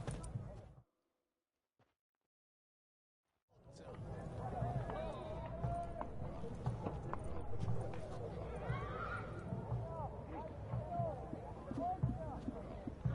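Hooves of Roach, a horse in The Witcher 3, clopping steadily at a walk after a brief silence, with whinny-like tones and game ambience running under them, close and continuous.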